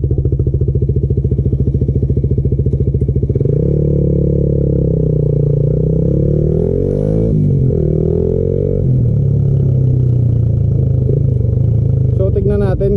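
A Suzuki Raider FI motorcycle with a racing ECU and total body setup revs loud and close, holding a high buzzing pitch before the revs swoop up and down and settle again.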